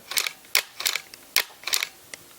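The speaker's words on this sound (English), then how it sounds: "you hold the button, the shutter release down, raises the mirror, takes the picture, and then the mirror doesn't drop back down until I release the button" Nikon D4 camera shutter and mirror firing in quiet mode, five crisp mechanical clicks in close succession, some doubled as the mirror lifts and later returns, close and alone in a quiet room.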